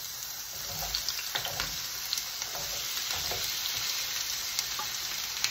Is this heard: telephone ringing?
no